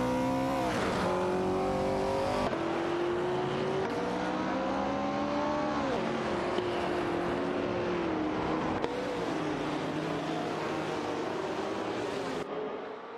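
Racing cars in a video game, including a Porsche 908 Coupe and a Ford GT40 MkII, roar steadily with rising and falling engine pitch. Gear changes and passing cars fill the sound continuously, with no talking.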